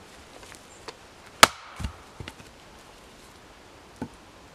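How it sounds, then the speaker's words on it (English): An axe splits logs into quarters for firewood outdoors, giving one loud sharp crack followed by a few softer knocks and splitting taps spread over a few seconds. "chop these logs into quarters or apes and this will be the fuel wood for the fire"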